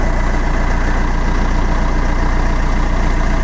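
A Fiat Doblo engine idles steadily and loudly on a freshly fitted exhaust, a smooth continuous drone with a low throb and no voices.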